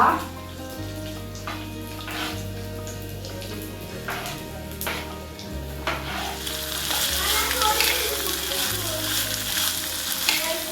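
Green chillies and shallots fry in a hot pan for a squid roast, a steady close sizzle that grows denser and brighter toward the end, over soft background music.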